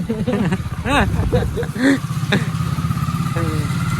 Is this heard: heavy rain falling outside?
no